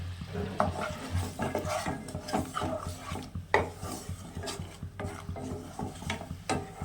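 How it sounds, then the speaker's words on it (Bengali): Chela fish being stir-fried with turmeric water in a pan: rhythmic scraping strokes of a spatula against the pan over a low, steady sizzle, fairly soft and close. "আর দিয়ে দেব অল্প হলুদ জল দিয়ে একটু কষাবো"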